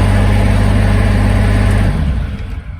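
A Toro Groundsmaster 328D diesel engine with glow plug and electric start runs loud and close with a steady low drone, then its pitch shifts and the sound eases off toward the end, with no talking.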